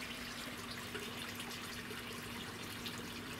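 Water runs steadily from a tap over chard and beet seedlings as they are rinsed, a constant close splashing stream with no talk.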